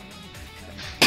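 A single sharp sneeze bursts out at the end after a quiet lead-in breath, close and loud.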